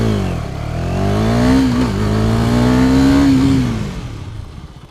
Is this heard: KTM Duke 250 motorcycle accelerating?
yes